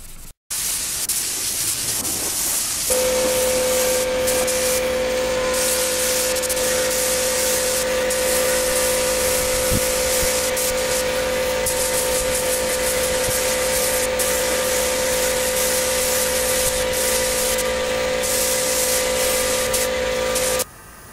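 A spray gun hisses continuously in a garage while paint is laid onto a motorcycle part, a loud, close, steady spray with a faint tonal whine beneath that runs almost the whole time after a short start.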